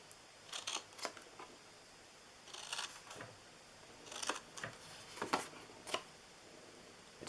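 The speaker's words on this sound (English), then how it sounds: "These scissors are really good at cutting straight" Scissors cut through paper for a DIY Easter box: a series of quiet, crisp snips and slicing strokes in irregular bursts, close up in a quiet room.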